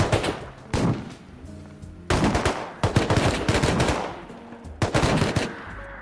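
Automatic gunfire in the video game Rust, loud rapid bursts separated by short pauses, with about four distinct volleys and no talking.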